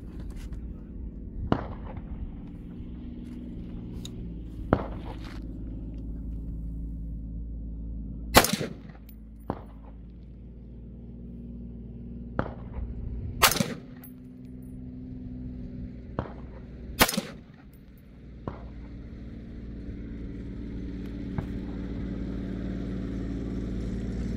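Several sharp gunshots from a Bear Creek Arsenal AR-47 rifle ring out one at a time at irregular intervals, loud and close, over a steady outdoor background hum.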